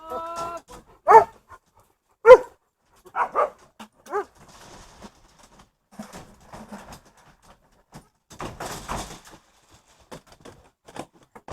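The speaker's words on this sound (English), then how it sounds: "first I got to feed the crazy dogs" Several dogs bark and yip near the microphone at feeding time, giving a few sharp, loud barks at first and then softer, scattered yips and whimpers spread irregularly across the stretch.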